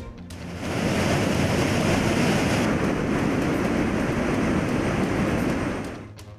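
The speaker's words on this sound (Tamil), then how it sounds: "மேற்கு தொடர்ச்சி மலையில் தொடரும் கனமழையால் திருப்பரப்பு அருவியில் ஆர்ப்பரிக்கும் தண்ணீர்." Heavy water roaring down Thirparappu waterfall swollen by monsoon rain in the Western Ghats, a dense, steady rushing wash that swells up within the first second and holds loud and unbroken, with no voices.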